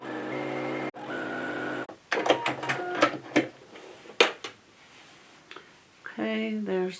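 A sewing machine stitching test rows on scrap fabric, several short bursts of whirring, rattling stitches near at hand, broken by pauses and clicks, with a person speaking between runs.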